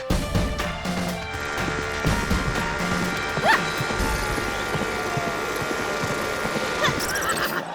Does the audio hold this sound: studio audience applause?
no